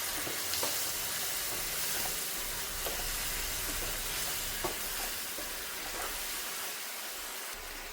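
Chilli garlic macaroni sauce with soy sauce sizzles steadily in a pan while being stirred, with a constant frying hiss and occasional soft scrapes.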